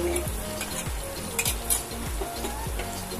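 Spice paste for paneer capsicum, with salt and whole black pepper, fries and is stirred in a pan. A steady sizzle runs throughout, with regular scraping strokes of the spoon roughly every half second, close and fairly loud, and no talking.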